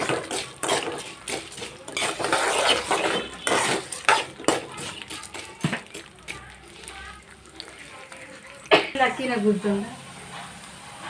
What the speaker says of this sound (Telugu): పొట్టు మినపప్పు, వీటిలన్నింటినీ బాగా దోరగా వేయించుకోవాలన్నమాట